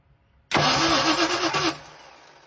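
A Fox-body Ford Mustang hot rod with a V8 engine cranks with a rhythmic whirring starter for about a second, then goes quiet, leaving a faint hum.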